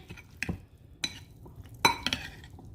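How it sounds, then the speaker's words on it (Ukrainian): Stirring a salad dressing of lemon juice, garlic, olive oil, salt and pepper gives a few separate clinks and scrapes of utensil against a bowl, spread unevenly and heard close up. "Все гарно вмішуємо."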